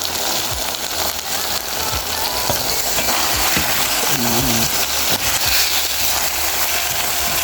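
Tomatoes, carrots and courgette cook together in a pot with a constant loud bubbling and sizzling like rain on a surface, plus a few scattered knocks and clinks from the pot.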